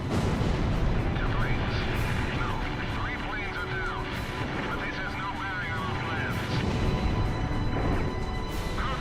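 Dense, continuous gunfire and explosions rumble from an aerial combat scene in the video game Ace Combat Zero, with jet engine roar throughout and a voice talking over the loud, steady barrage.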